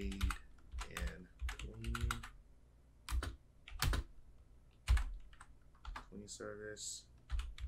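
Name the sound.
typing code on a computer keyboard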